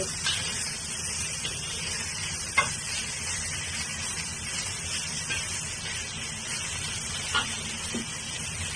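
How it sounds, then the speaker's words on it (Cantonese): Marinated beef slices, coated with sugar, oyster sauce, cornstarch, soy sauce and oil, sear in a red-hot wok with a constant, moderately loud sizzle and a few faint taps of a utensil, with no talking. "輕輕煎一煎佢先。 個鑊如果你燒得紅咧就唔會黐底嘅，咁煎一煎咧，唔好打散佢。"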